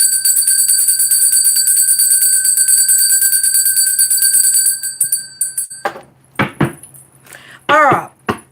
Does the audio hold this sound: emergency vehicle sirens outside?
no